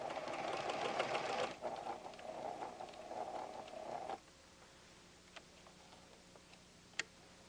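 Rapid mechanical whirring of a PFAFF creative 7550 sewing machine stitching for about four seconds, stopping abruptly, followed by quiet hum and a couple of small clicks.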